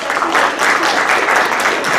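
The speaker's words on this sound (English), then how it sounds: "Should we give Pat a little round of applause?" A congregation gives a reader a small round of applause during a church service, a steady wash of many hands clapping fairly close, with no gaps across the whole stretch.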